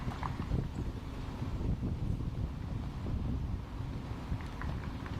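Gusty wind buffets the microphone in a continuous low rumble on a disc golf course, with no voices and only faint background noise beneath it.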